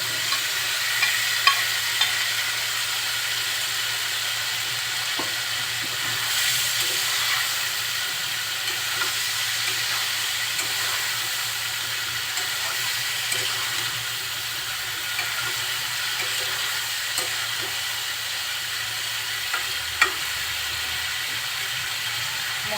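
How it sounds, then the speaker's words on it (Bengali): Fried cauliflower and potatoes cooking in spiced masala oil give a constant soft sizzle and hiss for a long stretch, with occasional faint stirring clinks and no voices. "মশলা থেকে যখন তেল উঠতে শুরু করবে তখন আমি ভাজা ফুলকপি আর আলুগুলো দিয়ে দিচ্ছি।"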